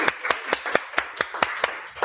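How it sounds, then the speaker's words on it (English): Sharp, evenly spaced claps ring out about every quarter second, close and fairly quiet, like a few pairs of hands applauding at a small book launch with no voices over them. "if I could have everyone give a round of applause to none other than Julie"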